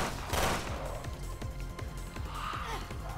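Rapid gunfire bursts in Resident Evil Revelations 2 Raid Mode, with repeated rhythmic shots and a game soundtrack underneath, fairly loud and continuous throughout.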